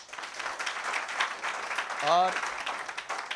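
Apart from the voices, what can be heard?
applause for a student, Dilkush Kumar Bairwa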